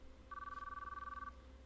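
In the visual novel game Chaos;Child, a phone rings while a call is still connecting, giving a single steady electronic ring tone of about one second that is faint and clean over a low hum.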